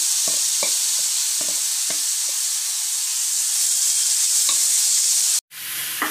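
Loud, bright sizzle of onions and garlic frying in a pan, with a few spatula scrapes and a brief cutoff near the end.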